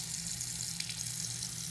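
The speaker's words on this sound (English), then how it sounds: "So I'm going to turn on the water." Tap water runs steadily into a sink, a constant close hiss and splash that holds unchanged throughout with no voices.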